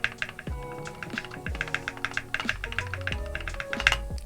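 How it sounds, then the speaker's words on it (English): Rapid, crisp clacking of keys on a mechanical keyboard, a dense irregular stream of close keystrokes with a faint musical tone running underneath. "This marks the beginning of my journey into mechanical keyboards."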